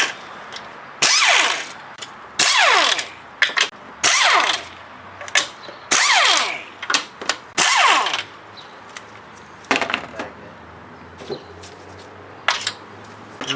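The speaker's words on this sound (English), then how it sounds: "Now we're going to remove the actual manifold bolts." Power tool buzzing in repeated short bursts as it backs out the 10 mm intake manifold bolts on a 2000 Chrysler 300M, each spin-up loud and close, separated by brief pauses and small clinks.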